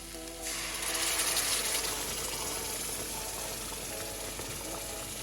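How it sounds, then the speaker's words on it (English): Base gravy poured into a pan of steamed vegetable korma with creamy sauce, giving a steady, wet, gushing rush that swells after the first half second and keeps going without pause. "Now we'll add the base gravy here now."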